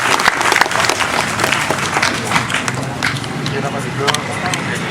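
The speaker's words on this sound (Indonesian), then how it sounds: "Tepuk tangan untuk Ustaz Wijayanto." An audience at a Kenduri Cinta gathering applauds Ustaz Wijayanto, loud, close and continuous clapping from a large crowd with scattered sharp individual claps, under what sounds like faint murmuring voices.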